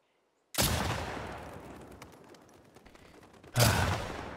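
Two loud bursts of gunfire in the video game The Last of Us Part II, the first rolling into a decaying echo, the second following a few seconds later.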